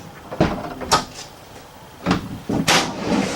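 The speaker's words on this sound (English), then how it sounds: "pocket doors" Pocket doors inside a 2018 Thor Motor Coach ACE 27.2 motorhome slide open and shut in quick thuds and rolling scrapes, close by, with no talking.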